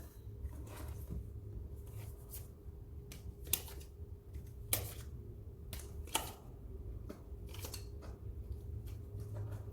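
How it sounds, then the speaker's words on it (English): Tarot cards being shuffled up close in a quiet room, a series of soft, irregular papery riffles and snapping clicks scattered over a low steady hum. "Let me shuffle these and then we will dive in."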